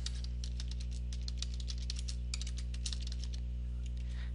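Code is typed on a computer keyboard in quick, uneven bursts of crisp key clicks, close and fairly quiet over a steady low electrical hum.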